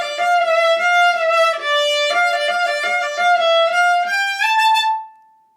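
A viola plays a sustained, improvised melodic line alone over a hip-hop loop, notes gliding and ending on a held high tone.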